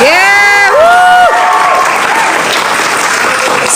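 A student audience claps and cheers loudly up close, a dense burst of applause with a few whoops at the start, then settling into sustained clapping.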